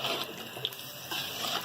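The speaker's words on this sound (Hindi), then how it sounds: "और हमें पानी डालना है" Water pours steadily into a cooking pot for haleem, a soft, continuous splashing stream heard close up.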